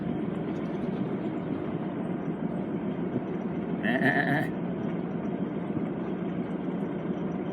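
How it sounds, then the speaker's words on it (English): A flock of sheep blocking an old country road, one loud close bleat rising clearly in the middle over a steady rumbling background of an idling vehicle. "Just what we have here is some sheep blocking the old road."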